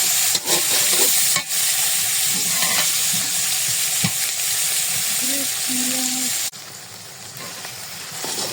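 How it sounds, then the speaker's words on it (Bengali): A paste of ginger, garlic, onion and cumin fries steadily in a pan, giving a constant broadband sizzle with occasional stirring scrapes; the frying drops slightly in level near the end. "আদা রসুন পেঁয়াজ জিরে বাটা মশলাগুলো সুন্দর করে ভুনে নিয়ে রান্না শুরু"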